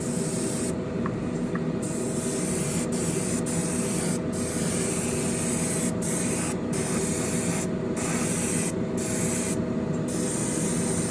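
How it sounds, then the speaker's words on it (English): Lacquer paint sprays from an airbrush or can onto a Ferrari SF90 Spider model car body in a steady, close hiss lasting the whole stretch, broken by brief gaps in short bursts. "I love this lacquer paint. It sprays so well."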